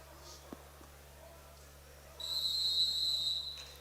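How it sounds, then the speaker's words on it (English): A referee's whistle at a high school wrestling match between Milford and Lakota West sounds as one sustained, shrill blast lasting over a second, heard clearly above the quiet gym background. "See the whistle there as we hit 0."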